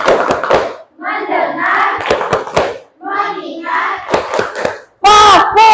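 Children in a classroom do rhythmic clapping patterns, crisp claps in short counted bursts separated by a teacher and children chanting in unison, ending in a sudden loud burst of voices.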